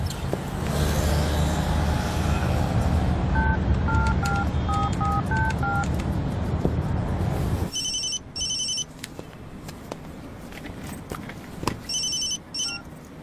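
Telephone dialing tones from a phone newly installed by the phone company: a quick run of paired keypad beeps over background hum, then after a break, clusters of ringing bursts, all fairly near and clear.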